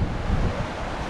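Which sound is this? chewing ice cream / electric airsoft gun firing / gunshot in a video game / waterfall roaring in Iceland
waterfall roaring in Iceland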